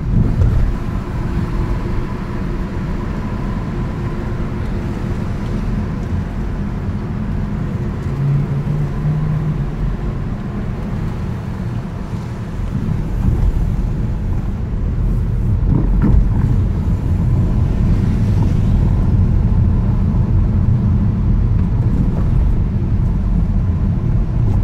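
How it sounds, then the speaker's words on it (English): A car drives through the inside of a building in Manhattan. Its low engine and road rumble stays continuous and fairly loud, with a slight swell partway through. "So we're driving inside the building"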